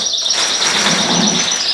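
Birds chirp and tweet continuously in an indoor bird room with caged cockbirds and hens, a dense, close chorus of high calls with no talking.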